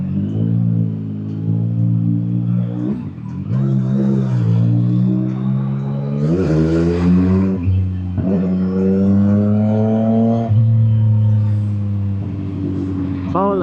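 Road traffic in Makati heard from inside a vehicle: a steady engine drone with shifting pitch as it idles and creeps forward, with brief louder rises and people talking over it.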